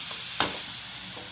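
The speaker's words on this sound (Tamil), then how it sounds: "இது வந்து கொஞ்சம் ஃப்ரை ஆகிட்டே இருக்கட்டும், மீடியம் ஃப்ளேமில் வச்சுருங்க" Food fries in a pan over a medium flame, a steady bright sizzle with one brief stirring scrape near the start.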